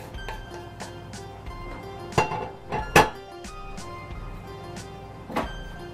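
A spoon stirs turkey bacon into fried turnips in a pan, giving a few sharp clinks and scrapes against the cookware, close by over quiet kitchen background, no one speaking.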